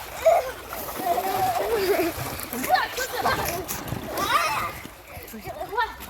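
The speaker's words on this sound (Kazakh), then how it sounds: "су шашып жатыр" Water splashes and sloshes around in an icy-cold outdoor pool in the rain while children's voices chatter and call out over it, close by.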